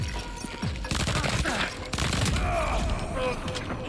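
Suppressed gunfire in the video game Death Stranding 2 comes as a dense burst of muffled shots amid booms and game noise.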